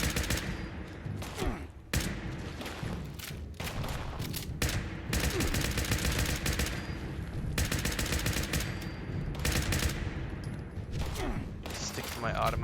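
Sustained automatic rifle fire in the post-apocalyptic game Fallout 76, with rapid bursts crackling nearly nonstop and only short gaps between volleys, loud and close throughout.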